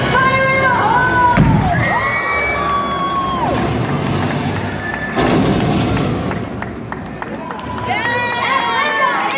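A prop rocket launcher fires in a live theme park show at Universal Orlando, giving one booming blast amid a loud host voice, a cheering crowd and bright electronic tones.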